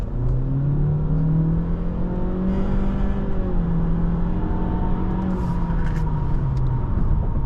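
A 2023 Honda Accord EX engine revs hard at full throttle as the car accelerates, its pitch climbing steadily and loudly, with a brief shift partway through.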